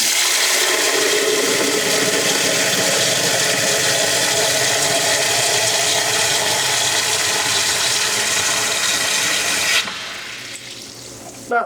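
Water gushes hard from a copper pot filler into a half-gallon container, a loud steady rushing pour that cuts off near the end, leaving a quieter trickle and a brief knock.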